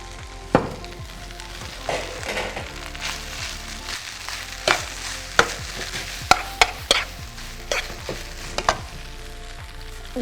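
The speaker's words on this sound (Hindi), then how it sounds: "साथ ही इसके हम डाल देंगे हमारे बॉइल्ड राइस।" Boiled rice goes into a hot pan and is stir-fried, making a steady sizzle broken by repeated sharp clinks and scrapes of a utensil against the pan. The sounds are close and uneven in rhythm, with no talking.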